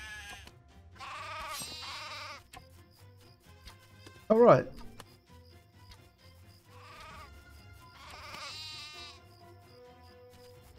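Sheep bleating in the video game Craft The World, several wavering calls repeating at intervals over a low steady game hum, with a sharp clunk in the middle and a voice briefly speaking.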